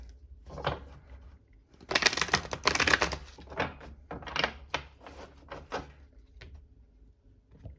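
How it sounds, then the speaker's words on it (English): Crisp riffling and snapping of tarot cards being shuffled in several quick bursts, close and fairly loud, with short pauses between. "Okay, we'll do one last shuffle."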